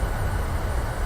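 Boeing 737-600 thrust reversers deploying on landing in the PMDG flight simulator game, a brief, steady, dense engine roar with heavy low rumble.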